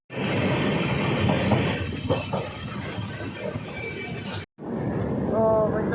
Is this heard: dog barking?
no